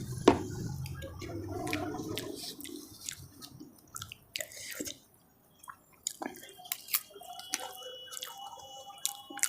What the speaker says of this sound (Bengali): প্রথমে খাচ্ছি এই যে মটরের ঘুগনি।